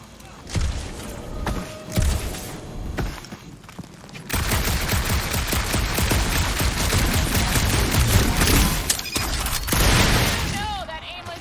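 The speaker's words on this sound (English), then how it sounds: "that aimless shooting isn't gonna scare the monsters away, right?" Gunfire in the Guardians of the Galaxy video game: a dense, sustained stream of shots and thuds in a dark area, running loud and nearly continuous after a quieter opening with scattered bursts, with game voices talking.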